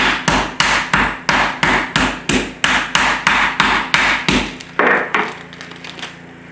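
A meat mallet pounds chicken breasts flat inside plastic on a board. About fifteen loud, evenly spaced thuds come close up in a steady rhythm, then slow into a few softer, irregular taps at the end.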